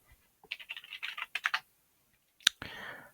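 Typing on a computer keyboard at a Linux login prompt: a quick burst of close, crisp key taps, a pause, then one sharp louder keystroke, like Enter, followed by a short hiss.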